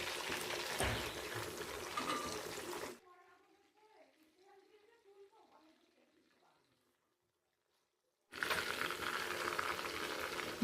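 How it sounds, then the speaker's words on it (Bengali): Loud crackling sizzle of fish frying in oil over low heat, broken by a quieter stretch of speech in the middle before the sizzling returns. "মাছটা আমি একদম কম আঁচ দিয়ে ভাজবো লাল করব না"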